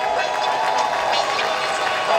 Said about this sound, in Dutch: een applaus voor mevrouw Matura